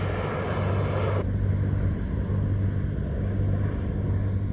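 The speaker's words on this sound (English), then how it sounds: "I'm at the beach and I'm not too far from the airport, and there's a lot of planes happening right now" An airplane flies over near an airport at the beach, a steady, loud broadband roar with wind rumble throughout, brighter at first and then dulling as it passes.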